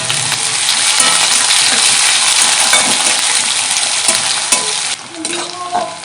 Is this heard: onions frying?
yes